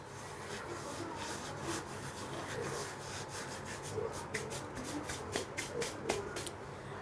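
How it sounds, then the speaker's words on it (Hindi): Ajwain (carom seeds) are crushed by hand for mathri dough, making quiet, close, dry rubbing and scratchy rustling in repeated short strokes. "और ये हमने अजवाइन ली है 1 चम्मच, इसको हम अच्छी तरह से हाथों से क्रश करके डालेंगे।"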